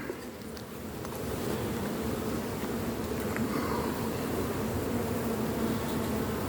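A hornet circles around a beehive, a continuous low buzzing hum that stays close and steady against a soft rustle, with no voices.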